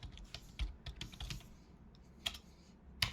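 Names being typed on a computer keyboard, a steady run of close, soft-to-sharp key taps in an uneven rhythm, with a couple of louder strikes near the end.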